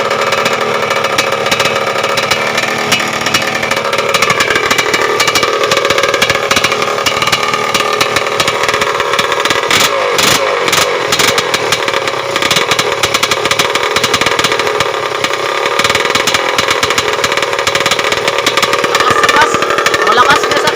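An RXT motorcycle engine bored up to 201cc runs with a leaking exhaust, giving a steady, loud, raspy buzz that holds close throughout with slight surges in revs.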